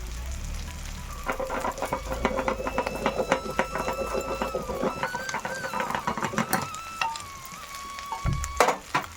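Boiled lentils being mashed in a pot with a wooden ghutni masher, a busy run of rapid scraping, knocking strokes up close, with a faint whistling tone drifting over it near the end.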